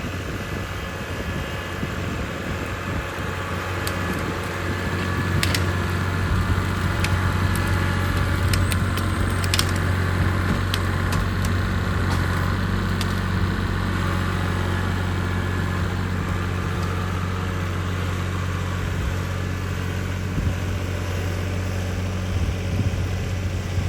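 A Kubota L3301 tractor engine runs steadily and loud up close, a continuous droning hum with a strong low tone that holds through the whole stretch, with no talking over it.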